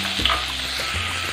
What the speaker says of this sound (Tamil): இப்போ பொடி பொடியாக நறுக்கிய வெங்காயத்தை போட்டுக்கலாம்.